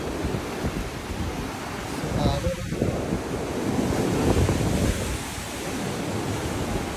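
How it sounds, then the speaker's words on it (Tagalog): Strong ocean waves crash and wash ashore with a heavy roar, buffeted by wind noise across the microphone. "malakas yung alon, nakakatumba yung alon."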